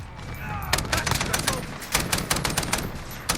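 Rapid bursts of STAR-21 DMR fire in Call of Duty: Modern Warfare, close and loud sharp cracks in quick succession with brief gaps, a voice talking faintly underneath.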